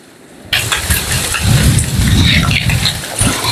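Stones thrown onto a fire-burned mountainside come down in a dense, continuous clatter like heavy rain, starting abruptly and pattering steadily in the near field.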